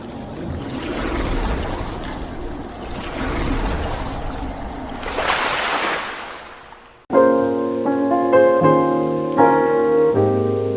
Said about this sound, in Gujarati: કેમ કે વરસાદ આવે છે